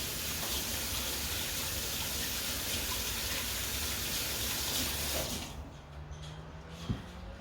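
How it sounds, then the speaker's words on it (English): A kitchen tap gushes steadily for hand washing after handling flour during crumble making, a loud close rush of water that cuts off near the end, leaving a quiet room with a faint knock. "I'll just wash my hands and I'll be back to add more flour."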